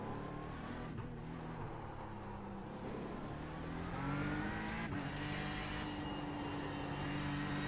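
Ford GT GTE race car in iRacing pushing a lap at the Nürburgring, its engine droning loud and close with rising and falling pitch through gear changes, a continuous roar with faint tire noise.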